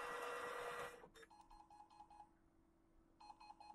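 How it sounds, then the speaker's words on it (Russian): A Brother MFC-L2700DNR laser multifunction printer whirs loudly on first power-up, then gives off a series of short electronic beeps and mechanical clicks as it starts up. "Загудел, пишет, подождите."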